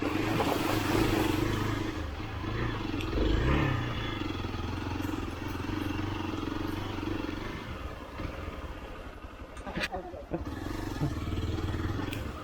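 A Hero Xpulse 200 motorcycle crosses a small stream on an off-road trail in Goa. Its engine hums steadily under the rush of flowing water, with a brief splash and spikes near the end, and a voice talks over it.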